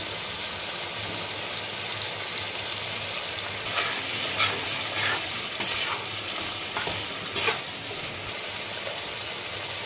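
Tomato puree sizzles and crackles in a hot pan of soybean kofta curry base while a spoon stirs it, with steady frying hiss and a few louder scraping stirs, close and without talk.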